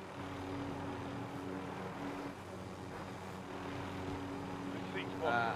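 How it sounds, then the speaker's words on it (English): Helicopter in an online shooter video game, a steady rotor and engine drone running throughout at a fairly constant level, with game effects and speech-like sounds over it near the end. "I got a chopper for you."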